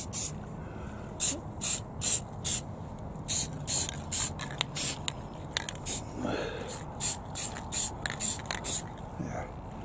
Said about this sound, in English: I'm going to spray some paint on those as well.